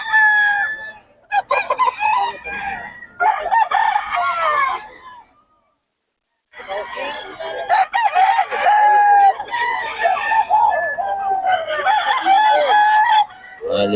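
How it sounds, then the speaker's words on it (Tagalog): Chickens cluck and roosters crow loudly and close by, calls overlapping in busy bursts with a short quiet gap midway. "solid mga manok ni Boss Batang."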